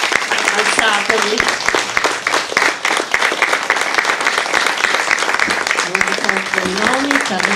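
Loud, sustained applause from an audience at a book presentation fills the space, dense clapping that stays even throughout, with a voice speaking briefly over it in Italian.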